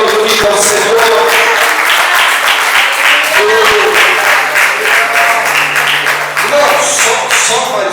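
A church congregation claps during a worship service, a dense, steady wash of applause lasting the whole stretch, with voices and some tonal sound mixed in underneath.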